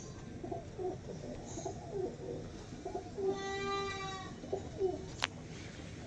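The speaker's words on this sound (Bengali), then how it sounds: "প্রচুর ছটপটে পায়রা।" Pigeons kept for sale coo in soft, repeated low calls at close range, with a brief fluttery burst partway through and a faint background hum.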